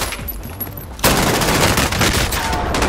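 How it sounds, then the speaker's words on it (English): Assault rifle fire in a multiplayer shooter game erupts after a quieter second and then runs as a loud, dense burst of rapid shots to the end. "Someone came in. Assault rifle."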